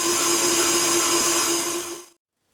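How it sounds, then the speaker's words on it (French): A stand mixer kneads brioche dough with a steady, fairly loud motor whir and a faint rhythmic churn, running evenly until the machine cuts off abruptly, leaving silence. "on est parti pour un pétrissage de 8 minutes"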